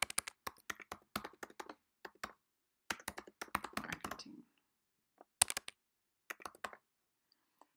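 Keys on a computer keyboard are tapped close up and crisply as a search is typed, quick bursts of clicks separated by short pauses, with no talk.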